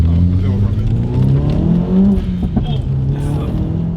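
Engine of a Mk1 Audi S3 on coilovers heard from inside while driving, a steady droning hum with rising revs as it accelerates, with people talking over it.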